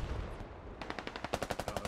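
A DShK heavy machine gun fires in the video game Squad, a rapid rhythmic burst of booming shots heard at moderate distance after a brief rumbling lull.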